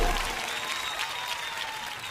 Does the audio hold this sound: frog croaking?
no